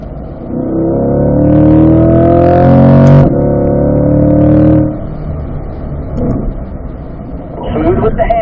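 Corvette C8 Stingray engine on a track, running loud and steady near the car, easing and dropping as it downshifts to fourth, with a voice coaching over the engine throughout.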